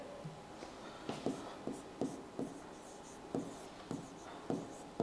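Chalk or marker writing a note on a classroom board during a chemistry lesson, a series of short scratchy strokes coming in quick bursts, faint and close, with no talking.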